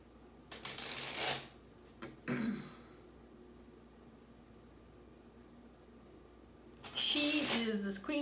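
Tarot cards are shuffled and dealt out in a short burst of papery riffling, a few quick slaps, then a quiet pause before another brief flurry of card sounds, fairly close.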